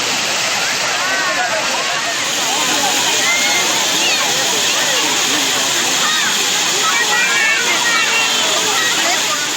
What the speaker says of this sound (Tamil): தேனியில் உள்ள கும்பகரை அருவியில் குளிக்க ஏராளமான சுற்றுலா பயணிகள்